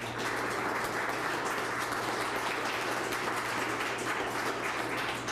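Audience applause for speakers at an informational meeting on the emerald ash borer, a steady, even patter of many hands, fairly loud and unbroken, with a low steady hum from the room beneath.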